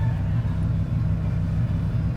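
A 121K-mile Dodge Viper idling in slow Saturday-night cruise traffic, giving a steady, pulsing low engine rumble close by with no revving, and no voices over it.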